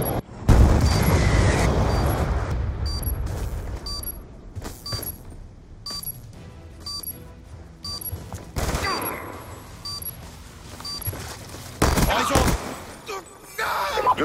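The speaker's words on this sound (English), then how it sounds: "Friendly Hellstorm missile inbound." Explosions from a Hellstorm missile strike in a Call of Duty multiplayer match, heavy booms scattered through the stretch, mixed with crackling gunfire and game sounds, some blasts loud and close, others duller.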